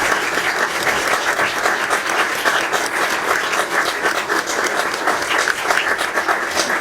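Theatre audience clapping loudly and continuously after a comedy stage performance, a thick, even roar of many hands that stays close and full throughout, with no gaps.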